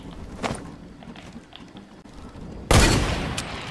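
Gunfire in the Fortnite battle royale game: a faint shot near the start, then a loud, sharp burst that rings on for about a second, with no talk.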